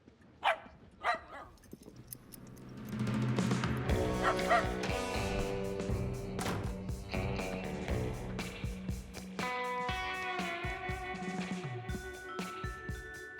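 A dog named Fido gives a few sharp yips and barks over swelling orchestral music, the barks short and scattered across the clip with no talking.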